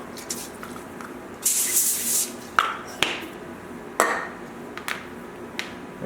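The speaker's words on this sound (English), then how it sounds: "Get some cooking spray" Cooking spray hisses in a short burst onto a foil-lined baking sheet in a home kitchen, followed by crinkles and a few sharp taps of foil and pan, up close.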